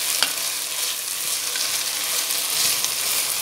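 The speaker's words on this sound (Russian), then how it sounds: "И продолжаю обжаривать на средней мощности." Carrots fry at medium heat in a pan for pork lagman, making a dense, even sizzle that holds steady throughout with small crackles.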